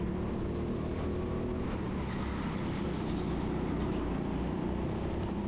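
Go-kart engines drone continuously at the TeamSport Sheffield indoor kart track during a Grid Series race, a steady buzzing roar heard from within a moving kart with no speech.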